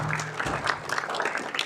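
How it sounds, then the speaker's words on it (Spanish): A church congregation applauding after a sermon, a brief burst of dense clapping heard close and fairly loud, with a voice faintly mixed in. "Dale un aplauso al Señor por eso si quieres"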